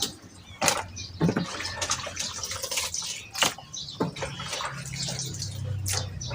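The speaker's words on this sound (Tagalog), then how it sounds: "Hugasan ko sa suka sa asin. Talagang malinis." Eel being washed by hand in water with vinegar and salt, close splashing and sloshing with intermittent sharp splashes and drips, moderately loud and uneven in rhythm.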